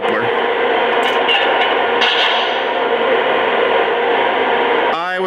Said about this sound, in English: when you fire the rear coupler, that sound effect comes from the rear of the engine